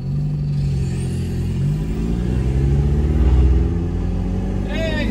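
A Renault Sandero RS rally car's engine rumbles and rises in pitch as it accelerates away through the gears, loud and close, with a voice talking over it.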